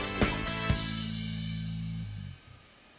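A simulated airliner engine in the Infinite Flight game at London Heathrow gives a steady tonal hum with a couple of brief bumps early on, then drops off and winds down near the end.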